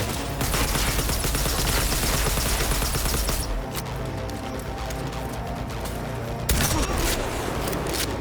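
Dense, loud video-game gunfire in Cyberpunk 2077, a rapid continuous fusillade of shots that fills the whole stretch, with a brief shift in texture partway through and no break in the shooting.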